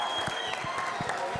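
Brief burst of audience applause at a live fan festival event, clapping with crowd noise while a voice talks over it.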